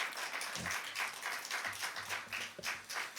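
Faint, steady applause from a young adults' church congregation welcoming two discipleship-training graduates, soft and distant clapping throughout with no talk.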